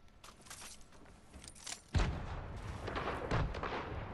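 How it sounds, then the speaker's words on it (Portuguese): Gunfire crackles in Fortnite, with distant shots early on, then a louder burst and continued rattling that sustains to the end. "Eu acho que ele tá até atirando."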